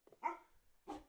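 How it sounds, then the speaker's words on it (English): A puppy barks twice: one sharp yelp-like bark followed by a second bark after a short pause, close and clear with no talking over it. "You're literally laying in bed barking."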